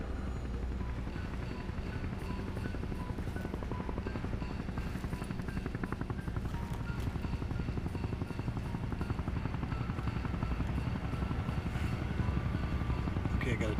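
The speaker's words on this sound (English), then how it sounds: "I got a chopper inbound. It's a Hind." A Hind military helicopter approaches at night, its steady rotor and engine roar filling the scene continuously and growing slightly louder, with faint voices underneath.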